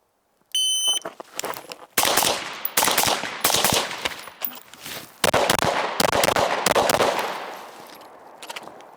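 El Presidente drill on a shooting range: a timer beep starts it, then a rapid series of loud, close rifle shots, a short gap at the magazine transition, and further quick pistol shots with echoing tails.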